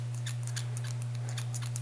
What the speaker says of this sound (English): So we're going to take our scissors, we're going to cut about like that.